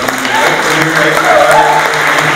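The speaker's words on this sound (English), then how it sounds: "Let's have one more round of applause for the drum" An audience at an event opening applauds the Alternative Roots Drum Group with steady, crackling clapping that carries evenly throughout, while a voice talks over it.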